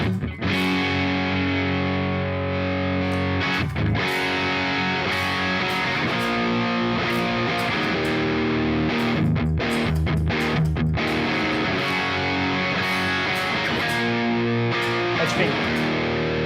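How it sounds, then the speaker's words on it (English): A Stratocaster run through a Quad Cortex Marshall amp model gives a steady, saturated distorted guitar tone, chords ringing continuously and loudly with brief choppy breaks and no voice over it. "like just the Marshall sound"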